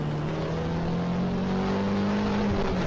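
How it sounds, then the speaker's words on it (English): A car accelerates on a road, its engine a steady, moderately loud whir with a slowly rising tone and no voices. "consider this small video where the car initially accelerates"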